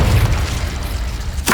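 A Confringo explosive spell cast in Hogwarts Legacy goes off as a short, heavy boom with a low rumbling tail and a brief burst near the end, loud and close.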